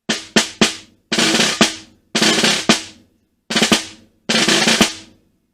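Snare drum playing Portraits in Rhythm Etude 9 at a slow tempo, with sharp strokes and grace notes falling in short grouped bursts separated by brief gaps, close and loud with no talking.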